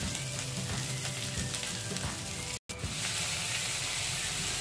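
Cauliflower pieces fry in oil for a mixed vegetable dish, a continuous close crackling sizzle with a brief dropout midway before the frying noise resumes, no voices.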